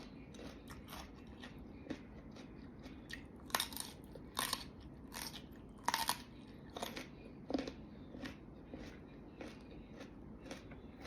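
Close, crisp crunching and biting of a raw vegetable eaten with Thai spicy fresh salmon salad. Irregular sharp crunches repeat over soft chewing, with no talking.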